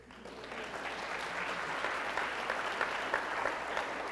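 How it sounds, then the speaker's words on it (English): An audience at a community keynote event breaks into a round of applause, the clapping swelling quickly into a full, even patter that carries on steadily. "Round of applause"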